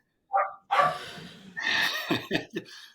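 A dog in a room gives a few short, sharp barks in quick succession, close and fairly loud, with a brief yip-like sound at the start and quiet gaps between.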